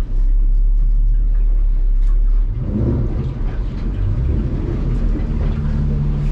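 Yamaha F300 outboard on a 2022 North River 25-foot boat, idling with a steady low rumble that drops and changes about two and a half seconds in as it clunks into reverse gear, then keeps running close by.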